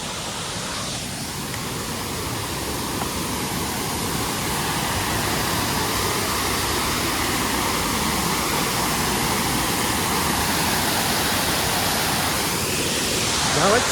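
Roaring waterfall at Wadsworth Falls State Park in Connecticut, a loud, continuous broadband rush heard up close, steady and unbroken and growing slightly stronger toward the end.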